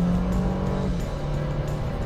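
A Toyota Land Cruiser 300, a heavy SUV of about 2.5 tonnes with a twin-turbo engine in Sport Plus mode, accelerates at full throttle. A loud, steady engine roar dips briefly about a second in, as if shifting gear.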